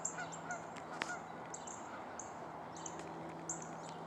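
Geese honking outdoors, several short high-pitched honks spread across the clip over a steady low background hum, fairly faint and distant as if passing overhead.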